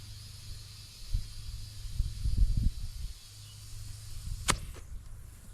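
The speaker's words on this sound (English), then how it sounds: "This is the sound this little thing leaks a little bit." Air hisses from a leaking tire on a John Deere AMT-600 utility vehicle being fitted with new tires: one sharp, brief burst of hiss over a faint, low, rumbling background.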